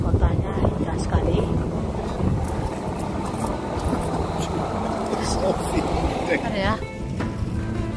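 Strong wind and hard rain in a street of Mechelen, a steady loud rushing roar with gusty buffeting against the microphone, and a voice speaks briefly over it.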